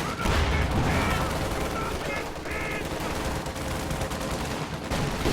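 MG34 machine gun fire in a video game battle, rattling bursts mixed into a steady wash of battlefield gunfire, moderately loud and sustained.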